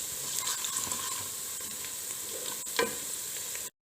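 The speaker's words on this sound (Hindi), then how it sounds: "इन सब मसालों को हम अच्छी तरह से प्याज के साथ ही मिक्स करके थोड़ा सा फ्राई कर लेंगे" Spices and onions fry in a pan while being stirred, giving a steady close sizzle with scraping stir noises throughout, no talking, for an achari aloo baingan dish.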